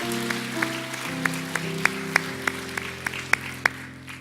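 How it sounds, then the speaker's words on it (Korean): Steady rhythmic clapping from a church congregation at a worship service, sharp evenly spaced claps over sustained organ or keyboard chords, moderately loud and with no talking. "우리 하나님께 우리 한 번 더 영광의 박수를 드리겠습니다"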